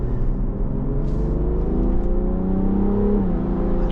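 A BMW M340d xDrive Touring diesel engine accelerating hard: a steady, rising drone that climbs in pitch, briefly dips as if shifting gear near the end, then pulls on, heard close with no talking.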